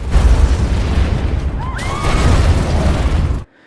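A car explodes with a loud, rumbling roar that crackles for several seconds, with a brief whining sound in the middle before it cuts off abruptly.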